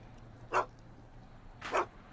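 Einstein the dog barks twice in the Back to the Future video game, two short, fairly loud woofs about a second apart over a faint low background hum, with no talking.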